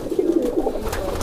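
Madrasi pigeon cooing close by, a short series of soft, throaty rolling coos lasting about a second.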